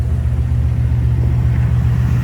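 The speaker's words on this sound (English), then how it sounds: "There is no mufflers. There is no nothing. Straight pipes. And it sounds really good." A Chevrolet C4 Corvette engine runs on straight pipes with no mufflers, giving a loud, steady, deep rumbling idle heard up close with no talk.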